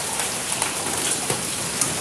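A hailstorm with heavy rain in Islamabad makes a dense, steady roar of pelting drops. Sharper, harder hits poke through now and then, with no voices.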